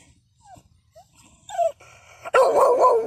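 A seven-eighths Red Bull Jocko pit bull yips and whimpers briefly, then breaks into loud, close, rapid barking.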